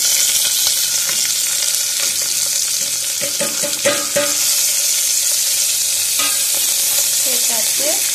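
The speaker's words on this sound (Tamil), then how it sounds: "கடுகு பொரிய ஆரம்பிச்சிருச்சு. இப்போ நாம் அரிஞ்சு வச்சுருக்க வெங்காயம், பூண்டு சேர்த்துக்கலாம்." Onion and garlic fry with mustard seeds in a pot, a loud continuous sizzle with occasional stirring scrapes and small pops throughout.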